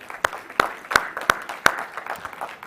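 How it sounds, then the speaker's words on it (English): Applause at a plant-based foods show, a few distinct claps standing out over a softer spread of clapping in a hall, fairly quiet and brief. "I think they all deserve a big round of applause for them."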